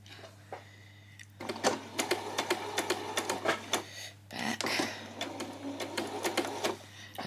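Sewing machine running a straight 3/8-inch seam along a skirt panel, its fast needle chatter coming in close, steady bursts with short pauses between runs and a constant low hum underneath.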